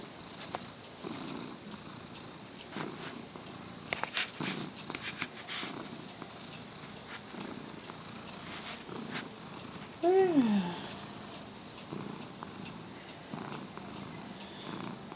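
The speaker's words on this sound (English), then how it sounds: "You hear him purring?" Soft, steady cat purring close by, a low continuous rumble with a brief louder vocal swell partway through.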